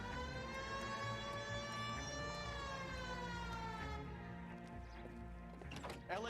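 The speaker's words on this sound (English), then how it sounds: "Hit the siren." A police car siren wails steadily in L.A. Noire, its rising and falling tone loud and continuous over engine rumble, with a voice briefly audible near the end.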